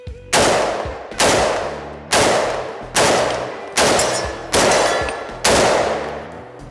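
Six loud, evenly spaced shots from an SLR rifle fitted with a Silencer Co. Saker ASR flash hider, each a sharp blast with a ringing decay, fired at a steady pace of about one per second at close range.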